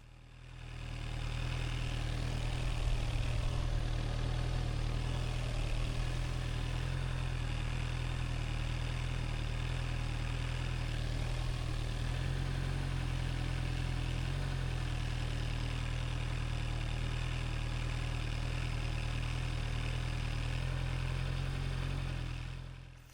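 A motorcycle engine idles steadily at a low, even rumble with the clutch held in the friction zone, holding the same pitch throughout with no revving.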